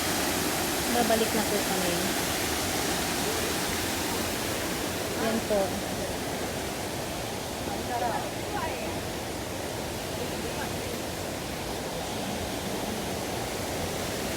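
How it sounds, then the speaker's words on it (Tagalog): A waterfall at a resort plunges in light rain, giving a steady, dense roar of falling water that fills the whole scene, with a few brief spoken words over it. "Ang sarap ng tunog ng bagsak ng tubig."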